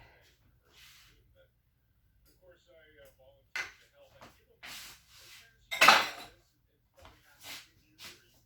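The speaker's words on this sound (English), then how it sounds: "Just mix it around." Pumpkin pudding mixture is stirred in a bowl, giving scattered spoon clinks and scrapes against the dish, the loudest knock midway, separated by quiet gaps.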